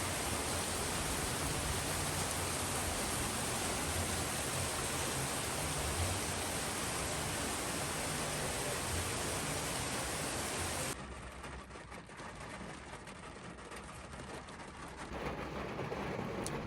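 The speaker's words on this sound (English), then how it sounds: "So you can probably hear it, but it's still raining." Rain drums steadily on a car parked at the beach, a dense, even hiss that drops abruptly in level partway through and then rises again, with no voices.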